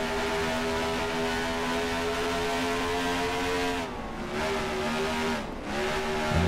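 Race car engine held at full throttle in NASCAR Racing 2003, ARCA series on the DuQuoin State Fairgrounds dirt track, a loud sustained droning roar with brief dips in pitch as gears shift.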